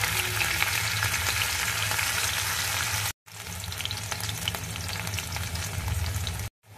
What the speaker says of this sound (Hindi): अब हमारा जीरा छटक गया है, अब हम इसमें हरी मिर्च डालेंगे। अब हम इसमें थोड़ी अदरक डालेंगे।